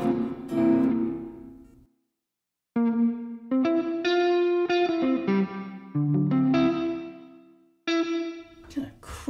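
Electric guitar played through an 80s multi-effects processor on its Jazz Hall reverb patch, which adds unwanted distortion: sustained chords and single notes ring out loudly with a gritty, reverberant tail, broken by a short silent gap.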